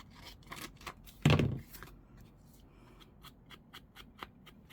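A single crisp snip of scissors cutting through card packaging for junk journal crafting, a short loud burst followed by quiet rustling and small handling taps nearby.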